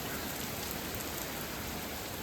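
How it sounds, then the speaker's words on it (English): Heavy rain pours onto a farm field, a steady, dense hiss of drops hitting the ground that fills the whole moment with no voices. "and a lot of rain. You can just see it bouncing off the field."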